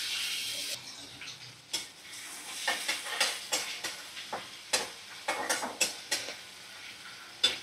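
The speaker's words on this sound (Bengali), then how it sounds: "তো একটু আমি পেঁয়াজ ভেজে নেব।" Onions frying in a generous amount of hot white oil in a pan, with intermittent stirring scrapes and crackling sizzle bursts over a steady background hiss.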